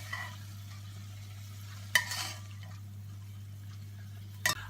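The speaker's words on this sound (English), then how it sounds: "So get yourself a spoon and scoop all of these onions out and get them into a container." A spoon scoops cooked onions out of a pan for beef stew, giving two brief scraping clatters against the pan over a steady low hum, otherwise quiet.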